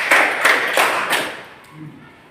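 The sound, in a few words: class clapping a counted clap rhythm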